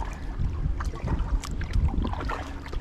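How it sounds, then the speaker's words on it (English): Wind gusts buffet the microphone during kayaking on Lake Ovid in Sleepy Hollow State Park, with a steady low rumble, faint water lapping and paddle splashes underneath, and no talk. "the wind is blowing in a slightly odd direction"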